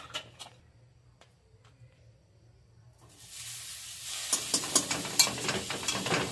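After a quiet start with a few light clinks, a loud crackling sizzle bursts up as butter melts in a hot pan, continuing steadily, close and bright.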